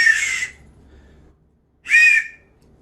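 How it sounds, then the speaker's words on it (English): Two sharp, loud, shrill whistle blasts, separated by a short silence, sounded close up. "Okay, that's a pretty loud whistle."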